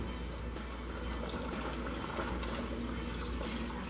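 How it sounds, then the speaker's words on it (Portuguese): Water pours steadily from a tap into a pot of macaroni soup on the stove, a constant, even rush of splashing with no pauses. "eu vou colocar um pouquinho mais de água"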